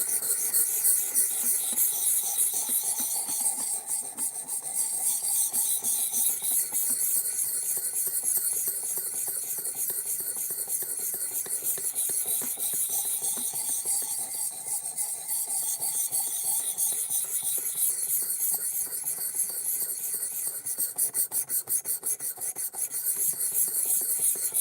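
A blade being sharpened with steady, continuous rasping strokes of filing and rubbing, loud and close, a dense hissing scrape running throughout without talk.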